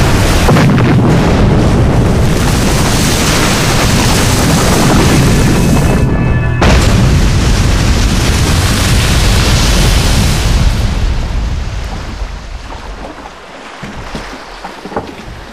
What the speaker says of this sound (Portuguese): Começamos a lançar bombas de profundidade e elas explodiam na água.